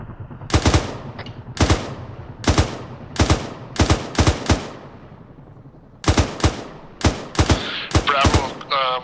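Gunfire in an Arma 3 firefight during a senator rescue mission: sharp, loud single shots and short bursts spaced about a second apart, with a quicker cluster near the end.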